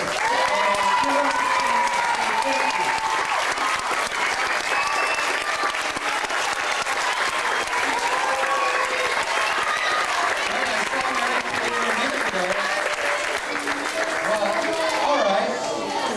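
An audience gives sustained, dense applause at a school music production, clapping steadily for about sixteen seconds with some voices and chatter mixed in.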